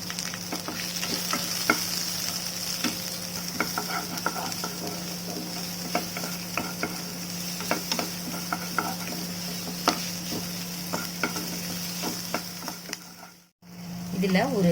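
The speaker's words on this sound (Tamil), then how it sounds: "நல்லா கலர் சேஞ்ச் ஆகிற அளவுக்கு நல்லா ஃப்ரை பண்ணி விடுங்க" Onions and curry leaves frying in a pan, a steady sizzle with intermittent scraping stir clicks, close and continuous, ending in a brief dropout.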